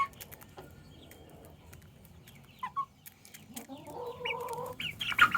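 Hens and baby chicks together, with scattered soft clucks and peeps through most of the stretch, growing busier and louder near the end, where a run of steady clucking and sharp chirps builds up close by.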